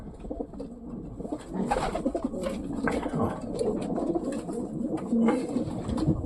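Young racing pigeons in a loft coo in repeated soft, throaty bursts, several birds overlapping close by against a light background murmur of the loft.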